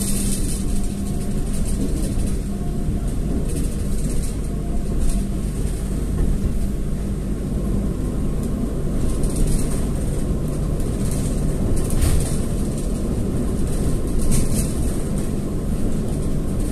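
The Kamandaka passenger train rumbles steadily across the Serayu river bridge at Maos, a loud continuous roar of wheels and carriages with occasional metallic clanks, heard from on board.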